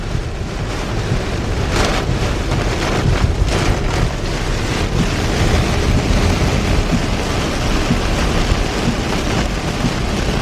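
Heavy rain pounds steadily on a Tesla Model Y in a loud, dense roar, wipers on high, with a rushing wash that rises and falls slightly throughout.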